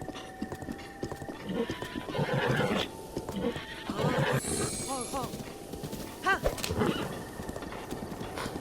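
A horse in a video game clip-clops along and gives a few whinnies and snorts, close by, with some talking over it.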